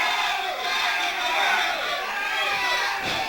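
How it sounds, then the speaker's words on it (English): A wrestling crowd cheers in an arena, a loud, continuous roar of many voices that swells and holds throughout with no break. "The crowd is on fire here tonight, and rightfully so."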